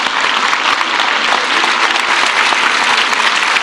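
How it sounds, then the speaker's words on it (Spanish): A crowd at a public event applauds the secretary of public works, loud continuous clapping that holds evenly from start to finish with no pauses. "Un aplauso al secretario de Obras que la construyó"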